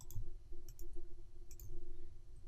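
Keyboard arrow keys tapped at a computer, giving a few quiet, quick clicks in small bursts over a low steady hum, with no talk.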